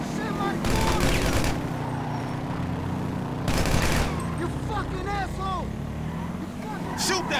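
Bursts of automatic gunfire in GTA V, several loud sustained volleys separated by pauses, with vehicle engine noise and a voice speaking between the shots.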